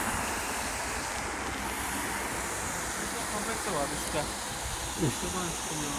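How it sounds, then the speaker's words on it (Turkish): A waterfall in a park in Serdivan, Sakarya, gives off a steady, broad rush of falling water that stays even throughout, with wind noise on the microphone and a few faint bird or voice chirps mixed in. "Şimdi şelale böyle akıyor."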